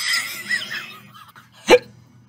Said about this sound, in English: Oh, sorry, I got a hiccup, sorry.